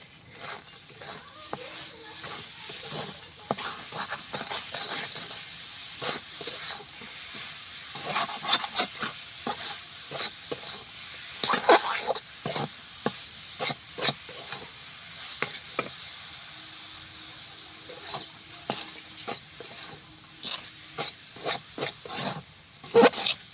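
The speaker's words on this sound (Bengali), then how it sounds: "নাড়াচাড়া করি নারকেল, সুজি, চিনি সুন্দরভাবে বাদাম মাখিয়ে নেব।" Semolina, coconut, sugar and nuts being stirred in a pan with a utensil, giving repeated scraping and rasping strokes under a faint sizzle, close and moderately loud, without talk.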